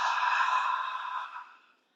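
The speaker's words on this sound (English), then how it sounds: "And exhale out." A long, deep exhale during a guided breathing exercise, a soft breathy rush that fades out gradually over about two seconds and leaves silence.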